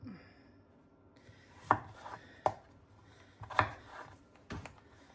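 A knife chops through potatoes on a cutting board for Greek lemon chicken, with four or five sharp, separate knocks spaced unevenly over a quiet kitchen background.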